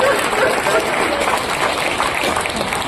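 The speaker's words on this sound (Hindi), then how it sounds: "ताली एक बार सारे लोग हाथ उठा के बुलाकर शुरू कर दीजिए मुझे" An audience at a kavi sammelan poetry recital in Chaibasa claps in a dense, steady burst of applause, with a voice speaking over the crowd.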